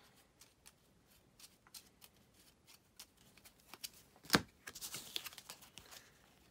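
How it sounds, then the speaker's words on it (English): A deck of cards is shuffled during a Lord of the Rings: Journeys in Middle-earth board game, with soft scattered card flicks building to a louder riffle and a fluttering burst of cards, close and alone. "Then Gimli needs to shuffle his deck."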